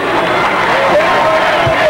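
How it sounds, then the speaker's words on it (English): Basketball arena crowd at a 1992 Illinois State at Bradley college game, a steady loud roar of applause and cheering that fills the whole stretch, with chatter mixed in. "Keeper gets a round of applause."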